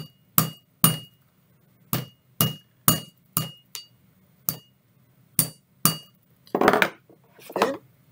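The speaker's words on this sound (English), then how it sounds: "I'm gonna hit it a few times with a hammer." A hammer strikes a SICK H18 photo eye sensor about ten times in sharp metallic knocks, some in quick pairs, followed by a short burst of rattling clatter near the end.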